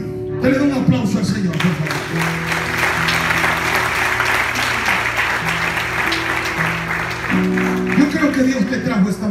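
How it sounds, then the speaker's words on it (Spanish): A church congregation in Venezuela applauds during a worship service, steady clapping carrying on for several seconds while a sustained musical tone lingers underneath and a voice speaks briefly at the start and end. "Dale un aplauso al Señor, por favor"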